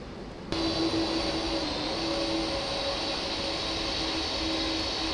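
A Boeing 767 in a flight simulator game taxiing with a steady, even jet engine whine and faint tonal hum, starting abruptly after a brief quieter moment and continuing unbroken.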